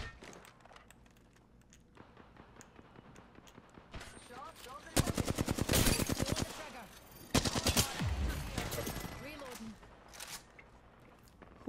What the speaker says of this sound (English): Who in the hell is shooting at me?